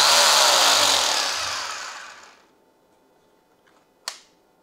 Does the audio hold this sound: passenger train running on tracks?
no